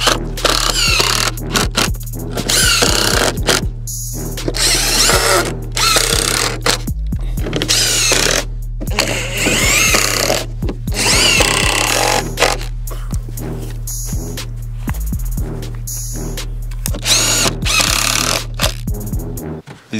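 A power drill drives screws into lumber while a compost bin is built, repeated loud whirring bursts separated by brief stops, close to the microphone over a steady low hum.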